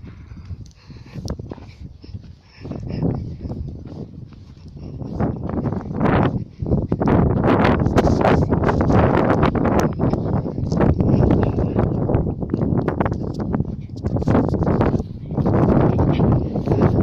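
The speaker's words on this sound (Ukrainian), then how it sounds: "Який вітер" Strong wind buffets and roars continuously on a railway track embankment, with gusts rising and falling and rough thumping noise throughout.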